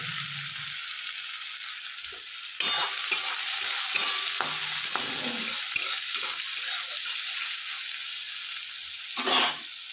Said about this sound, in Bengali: বেগুনটা ভাজা হয়ে গেছে বেগুনটাও তুলে নিলাম